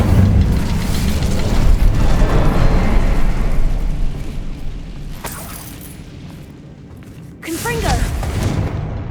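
An Incendio fire spell is cast in the video game Hogwarts Legacy, a loud roaring fiery burst that fades, then a second sharp flare near the end, with a voice speaking over it.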